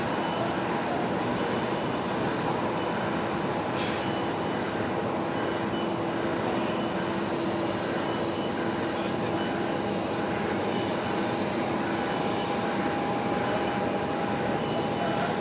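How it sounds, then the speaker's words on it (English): A Cathay Pacific Boeing 777 jet taxis at night at Brisbane Airport, its engines giving a steady whining drone with a sustained tonal hum, constant and fairly close throughout. "there is the Cathay Pacific 777"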